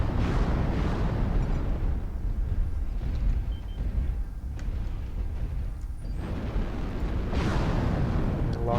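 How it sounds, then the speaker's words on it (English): Rockets fire in a MechWarrior Online battle as a string of loud, rumbling blasts and booms that overlap with a constant roar of mech combat and engine noise. "Launch up some rockets there."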